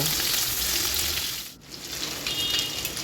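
Chicken and prawns fry in a little oil, producing a dense, close, hissing sizzle that dips briefly midway before surging back at full strength.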